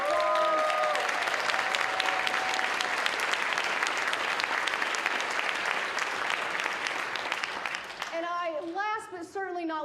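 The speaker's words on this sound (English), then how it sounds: "Let's give them a big round of applause." An audience at a startup showcase event claps in loud, sustained applause for several seconds, then it fades as a person begins speaking.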